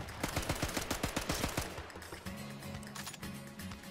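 A machine gun in the Sniper Elite 5 video game fires a rapid, rhythmic burst of sharp close shots, then the firing gives way to quieter mechanical clatter and tones.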